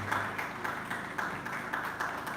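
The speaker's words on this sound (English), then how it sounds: "a round of applause for me, please" Applause from an audience at a crime reduction and prevention summit of Nigerian paramilitary and security agencies: steady clapping with small bursts, medium distance, with no voice over it.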